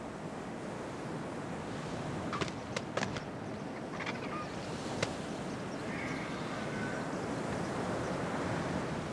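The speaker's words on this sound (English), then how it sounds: "The waves your eyes are contemplating come from the river." Waves from the Amazon River wash steadily onto a beach in a continuous broad rush of surf with wind noise. A few faint clicks rise above the wash.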